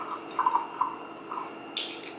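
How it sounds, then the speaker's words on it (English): A small splash of almond extract goes into chia pudding, giving a few faint, soft drips and a light liquid patter in a quiet kitchen. "I am going to just take a little splash of almond extract"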